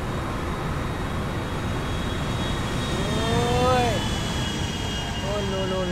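A jet plane engine roars steadily in GTA 5, a loud sustained blast with a rising and falling whine layered on top, and a voice talks over it.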